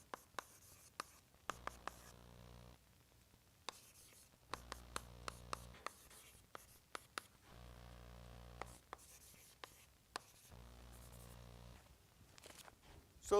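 Chalk or marker writing on a board during a doctoral lecture on partial differential equations, with bursts of scratchy strokes and taps separated by pauses in a quiet room, with no speech over it.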